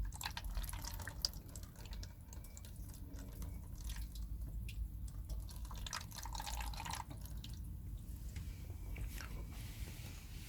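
Quiet trickling and dripping as water is poured into the seat-well drain trap of a Mazda MX-5 NC, with a low background rumble, small splashes and drops scattered irregularly throughout.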